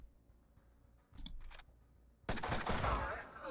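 Gunfire from a turn-based tactical shooter, Mutant Year Zero, a couple of sharp clicks and short metallic bursts followed by a sudden loud, crunching gunshot impact with a rumbling tail.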